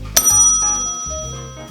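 A bright bicycle-style bell rings once as a notification-bell sound effect, its clear metallic ding lingering and slowly fading over a low hum.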